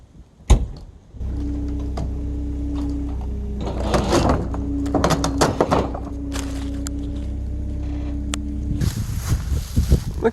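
A skid loader backs up beside an old granary, its engine droning steadily with a sustained hum, punctuated by clunks and knocks and a louder burst of noise near the end.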